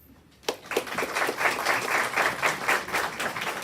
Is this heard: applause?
yes